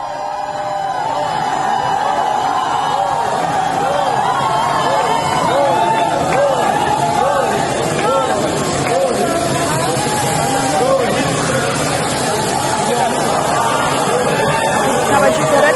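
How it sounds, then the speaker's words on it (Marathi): Residents of a housing colony cheer and shout in a dense, steady crowd roar while welcoming cricketer Rohit Sharma home and lifting him onto their shoulders, loud and continuous throughout with overlapping voices. "कॉलनीतील रहिवाशांनी रोहितचं असं स्वागत केलंय रोहितला खांद्यावर उचलून घेत यावेळेस जल्लोष साजरा करण्यात आलाय"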